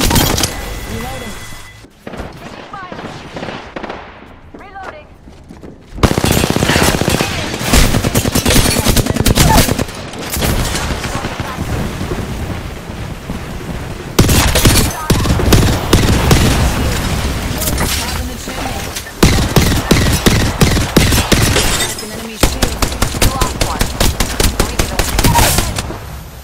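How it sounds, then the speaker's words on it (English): Heavy gunfire from an enemy squad in the battle royale game Apex Legends. Loud, sustained automatic bursts and rapid shots pound almost without pause, broken by a brief lull and punctuated by booms. "That's another squad shooting at us."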